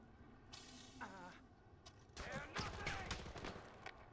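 Bursts of rapid gunfire in the Far Cry 4 shooter game, rattling volleys building into a dense fusillade in the second half, mixed with other game sounds at modest level.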